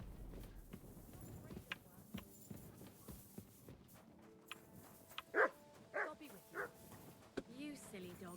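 A dog in a video game barks and yelps in a few short sharp bursts near the end, preceded by quieter game sounds and footsteps, with talk present in the background.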